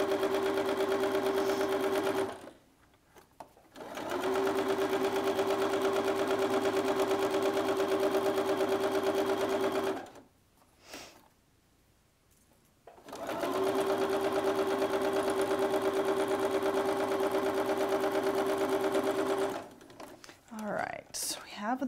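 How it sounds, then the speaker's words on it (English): Sewing machine stitching quilt pieces together, running in three steady, loud bursts of continuous whirring separated by short pauses, with some handling noise at the end. "So now we go to the sewing machine."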